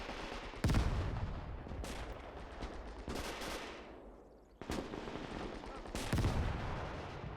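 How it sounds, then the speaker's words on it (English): Maxim machine gun fire in a Gates of Hell battle, with loud bursts erupting several times over a constant din of gunfire and explosions, some blasts near and heavy, others more distant. "Maxim opening up, that's very nice"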